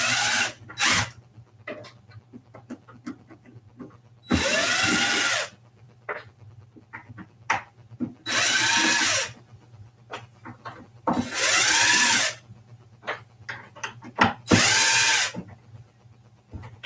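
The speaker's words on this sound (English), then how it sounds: "And now I take out the screws." A power drill backs screws out of a MAME arcade cabinet in four loud, sustained bursts of about a second each, with softer handling clicks and a steady low hum between them.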